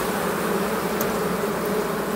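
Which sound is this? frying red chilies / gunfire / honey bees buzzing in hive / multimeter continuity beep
honey bees buzzing in hive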